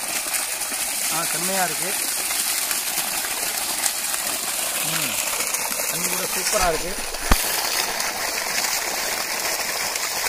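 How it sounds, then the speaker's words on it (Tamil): Water gushes and splashes steadily into a large farm garden being irrigated, a close continuous rushing pour with a person talking excitedly over it. "பார்த்தீங்கன்னா தண்ணி சூப்பராக விழுது"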